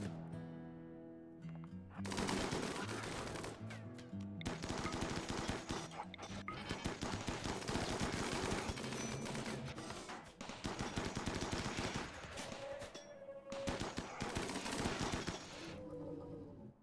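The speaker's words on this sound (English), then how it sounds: "Double minigun Tesseron. That's a nasty Ancient Danger." Double minigun fire from a Tesseron enemy in RimWorld, a sustained, loud rattling barrage that starts after about two seconds and runs almost continuously with brief breaks, mixed with game music.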